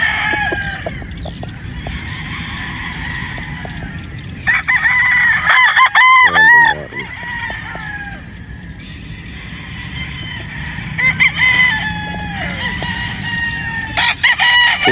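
A bulik gamefowl rooster crows loudly and near, with several long calls across the clip, two of them especially strong, over a steady hum of outdoor background noise.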